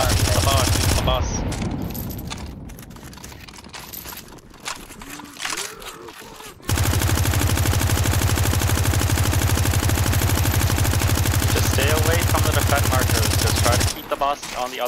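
Rapid automatic gunfire from a Counter-Strike 2 zombie escape round, a dense, loud sustained burst running for several seconds after scattered shots and game noise, with players talking over it.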